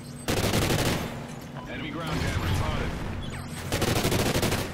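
Rapid automatic gunfire from a Call of Duty Ghosts match, dense bursts of fire running loudly through the whole stretch with a brief busier mixed passage in the middle.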